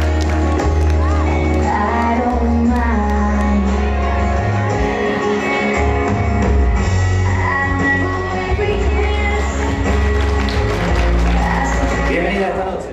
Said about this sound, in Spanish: Sus aplausos para recibir a Karen.